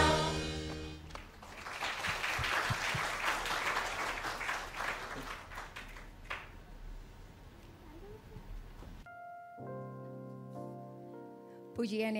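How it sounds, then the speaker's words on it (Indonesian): Audience applause after children and parents sing a worship song at a church service, a dense, steady clapping for about nine seconds that cuts off abruptly, followed by quiet organ-like chords with no talking. "mari sekali lagi kita memberikan tepuk tangan untuk anak-anak kita"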